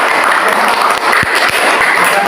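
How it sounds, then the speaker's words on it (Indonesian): Short burst of loud, close applause from a classroom group after a student presentation, with individual claps standing out as sharp rhythmic hits over the dense clapping. "Tepuk tangan untuk kelompok 2."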